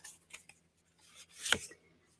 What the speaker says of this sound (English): So let me just double shuffle them here.